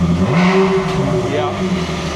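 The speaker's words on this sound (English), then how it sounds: "I bet you I can actually rev it without it stumbling too." Ferrari 360 engine with a misfire revving, a loud sustained throaty drone with a rising and falling pitch, close by, with a voice talking over it.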